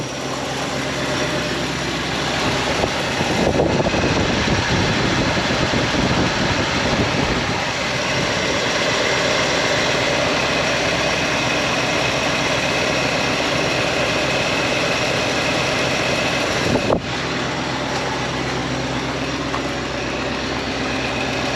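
A Ford 352 V8 idles steadily in an F250 pickup during carburetor vacuum tuning, a loud, constant low rumble that stays even throughout, with a brief shift in tone around the middle and no talk.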